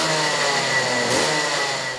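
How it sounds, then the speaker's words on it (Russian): Racing kart engines rev steadily at a karting track in Sochi during the first stage of a tournament, a dense continuous mid-pitched motor drone with slight swells, loud and close, no voices. "От шума мотора закладывает уши"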